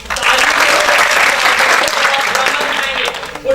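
Sustained audience applause fills a performance hall at the opening of a stage drama, a dense wash of clapping that holds steady at full loudness and fades slightly near the end.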